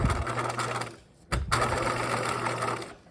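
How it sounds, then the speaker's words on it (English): A sewing machine stitches a backpack lining in rapid, steady bursts, pausing briefly midway for a backstitch before running on, close and clear with no talking. "I'm going to backstitch here and leaving that 5-inch gap."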